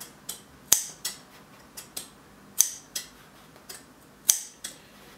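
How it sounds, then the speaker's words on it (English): Scissors cutting through layers of trouser fabric near the stitching, about a dozen crisp snips at an uneven rhythm, close and with no talking. "you cut it to that point, 45 degrees, and then you cut under 45 degrees right up to the end of your stitching"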